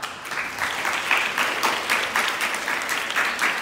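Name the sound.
audience applause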